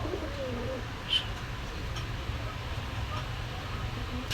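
Pigeons coo in a pigeon shop at a Khulna market in Gollamari, soft low throaty calls repeating faintly under a busy background murmur, with one brief sharper chirp.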